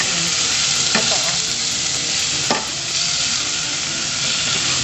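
Food frying in a pan hisses loudly and constantly, with a couple of sharp utensil knocks and scrapes as it is stirred, close up and without speech.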